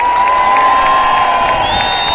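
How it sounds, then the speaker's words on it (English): A loud crowd at a street demonstration against vaccine and mask rules cheers and claps close by, with shouting voices and a steady high tone running through the noise. "Just give her a big round of applause."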